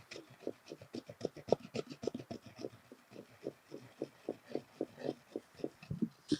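Shardai ingredients ground by rubbing, a steady series of rhythmic rasping scrapes repeated roughly every third of a second, close and moderately loud with no talk.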